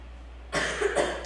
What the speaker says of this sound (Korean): 나 기침하는 거 못 봤어?